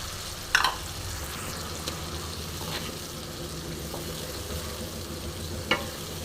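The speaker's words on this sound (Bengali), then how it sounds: "এবার ভালো মতন আমি দইটার সাথে মিশিয়ে নেব, মশলার সাথে ভালো মতন কষে নেব" Yogurt and spices sizzle softly in a pan while being stirred, a steady frying hiss with a couple of sharp utensil knocks against the pan.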